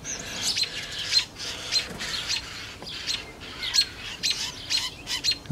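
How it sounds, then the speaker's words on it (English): Chattery birds chirp on a clear morning in southern Idaho, with bright repeated tweets and calls in irregular bursts, fairly near and with no talk. "chattery birds this morning, don't we?"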